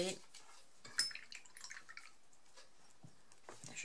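A watercolor paintbrush is rinsed in a jar of water, giving faint drips, light splashes and a few soft glassy clinks, with brief quiet voice sounds around them.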